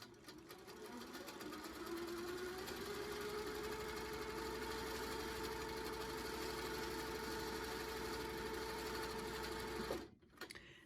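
A sewing machine runs fast and steady for stipple quilting on a quilt block, a close continuous whirring hum before stopping abruptly near the end.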